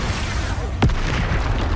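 A spell explosion in the game Hogwarts Legacy, a single short boom partway through over a steady, busy game ambience.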